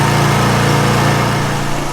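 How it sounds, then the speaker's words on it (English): A Toro TimeMaster lawn mower engine runs and warms up after starting, a loud, close, steady putter with a constant low hum and no voices. "Hopefully you can hear me well over the motor."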